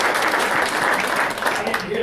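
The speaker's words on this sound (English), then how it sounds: "So please give Candace a big round of applause." Crowd applause at a university Blue-White luncheon for an assistant coach, a dense steady patter of clapping filling the whole two seconds at even loudness.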